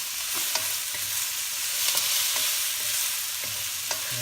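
Half-cooked pork belly sizzles steadily in hot oil in a pan, with a constant frying hiss and a few light clinks of a utensil stirring it.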